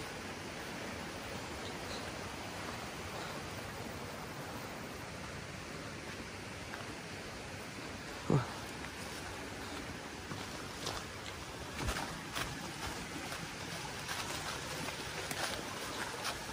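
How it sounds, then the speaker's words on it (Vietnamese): A mountain stream running with a large volume of water, heard as a steady, fairly faint broadband rush with a few brief knocks and rustles toward the end, no voices. "cái khu suối ở đây thì nước rất là to"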